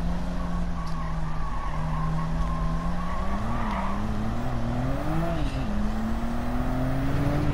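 A Porsche 993 RS with a Ruf engine swap in Gran Turismo 7 brakes for a double right-hand turn, its engine note dipping and rising while the tires squeal steadily throughout, loud and continuous.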